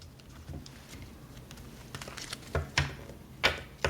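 Knuckles rapping on an oracle card deck, a series of faint, sharp taps and clicks coming irregularly and growing louder toward the end, heard close up in a quiet room.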